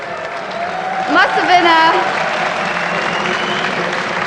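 A packed esports event hall crowd at EU LCS playoff quarterfinals applauds and cheers loudly and continuously for EG, a steady roar of clapping with a voice briefly rising above it.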